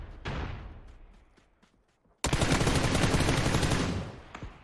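Gunfire in an online battle-royale esports match from a charity qualifier. A sharp shot decays away, followed by a few faint taps, then a loud sustained burst of rapid automatic fire that runs for about two seconds before tapering off.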